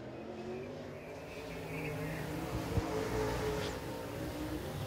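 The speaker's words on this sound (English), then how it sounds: "Chris Harris on the track now" A race car, the M00, runs on the Duck River Raceway Park dirt oval during a weekly division event, a steady, fairly distant engine drone that swells slightly midway over a broad wash of track ambience.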